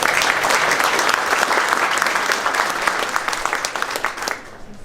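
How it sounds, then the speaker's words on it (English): An annual meeting crowd at Cowbell Brewing applauds warmly for several seconds. The clapping is full and close at first, then thins and fades toward the end. "Can we get another just round of applause for all the Guardian members and all the supporters"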